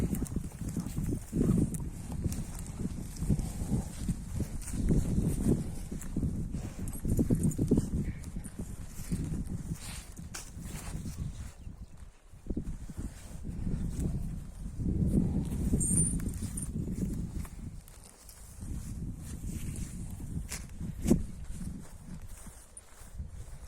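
Hooves of a stallion clip-clop steadily on hard ground over a low rumble, with a few louder knocks near the end; no talking.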